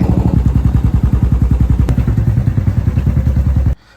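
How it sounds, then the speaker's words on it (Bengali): A motorbike engine runs close by with a loud, rapid, even thumping pulse for several seconds before the sound cuts off sharply. "বাইক স্টার্ট দিয়ে চললাম জিমের দিকে।"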